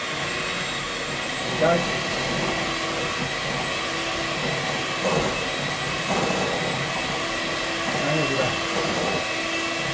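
An electric whisk churns lemon cupcake batter with a steady, even motor whir that runs through the whole stretch, while a voice speaks briefly over it.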